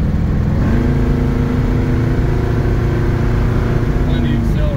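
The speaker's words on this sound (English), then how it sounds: "Car runs and drives great." 1973 Chevrolet Nova engine revving and pulling under acceleration, a loud, steady, throaty rumble heard close from inside the car, with no pauses throughout.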